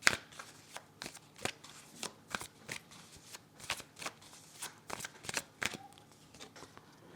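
Tarot cards are shuffled and laid out in a quiet room, giving a run of about twenty crisp, sharp card flicks and slaps at an uneven rhythm, close and alone with no talking.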